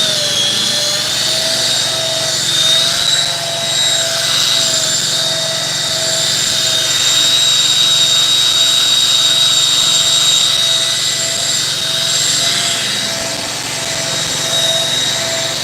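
A machine polisher buffs single stage car paint, giving a continuous high whine with a steady droning hum beneath it. The sound swells slightly as the pad moves, loud and close, with no pauses.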